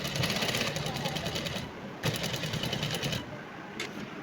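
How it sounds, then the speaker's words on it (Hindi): A sewing machine runs in steady rapid bursts while stitching shalwar fabric, the rhythmic whirring close and fairly loud, pausing briefly at about 1.7 and 3.2 seconds before resuming. "फिर यहाँ सिलाई लगाएंगे"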